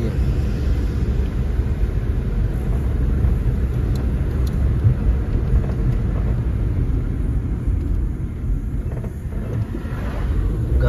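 A car approaches on a dark road at night. A loud, steady engine rumble and road roar fill the whole stretch, with buffeting wind noise on the microphone.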